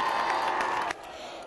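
A crowd of fans cheers and applauds for Alex Del Piero and Sydney Football Club at an outdoor team presentation in Piazza Milano, Jesolo, a steady distant roar with scattered whoops that drops off sharply near the end.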